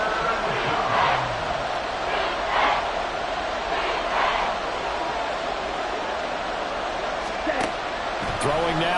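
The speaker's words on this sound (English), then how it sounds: "this crowd is making an impact right now." A stadium crowd roars in the Madden football video game, a constant wash of cheering noise beneath a commentator's voice, with a few brief louder swells.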